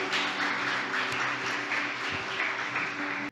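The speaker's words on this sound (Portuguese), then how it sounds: "Dê uma salva de palmas para Jesus" Applause for Jesus from a Sunday church congregation, a dense steady wash of clapping with a faint underlying hum, ending abruptly.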